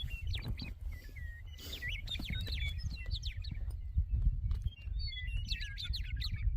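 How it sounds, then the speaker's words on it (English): Several birds sing and chirp on a spring morning in Montana, with varied whistled phrases and tweets at moderate distance over a low rumbling background. "The birds are giving you guys a beautiful serenade this morning."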